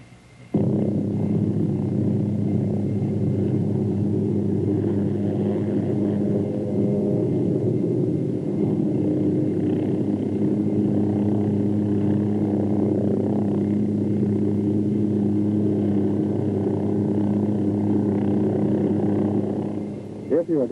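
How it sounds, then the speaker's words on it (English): A Hughes OH-6 helicopter pivots around its tail rotor, its engine and rotors a loud, steady droning rumble held close and unbroken for about twenty seconds. "you pivot the helicopter around the tail rotor"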